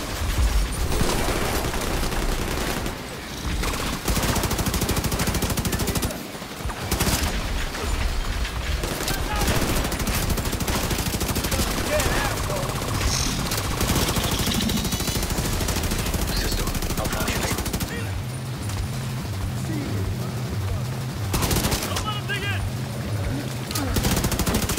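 Sustained gunfire from The Division 2 video game: continuous rattling automatic bursts and heavy shots through nearly the whole stretch, loud and close, with voices talking under the combat.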